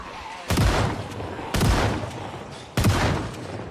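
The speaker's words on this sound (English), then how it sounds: "Project Zomboid has the worst shotguns fucking ever nowadays" Three loud shotgun blasts from Project Zomboid ring out about a second apart, each a sharp close crack with a short decaying tail.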